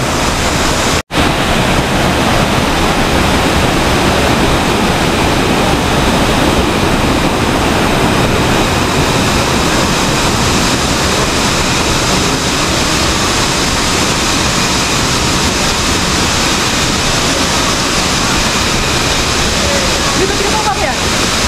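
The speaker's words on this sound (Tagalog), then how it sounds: "Yan yung falls, ang ganda oh." Waterfall on Mt Bisol in Burgos, Carranglan, Nueva Ecija: a steady, loud rushing roar of falling water filling the whole stretch, broad and unbroken, after a brief click at the start.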